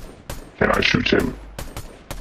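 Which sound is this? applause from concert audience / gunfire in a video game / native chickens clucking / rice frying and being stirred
gunfire in a video game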